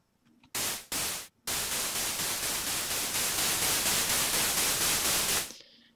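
Broadband white noise from a synth in FL Studio hisses in two short bursts, then swells into a long steady wash with a faint pulsing rhythm before cutting off.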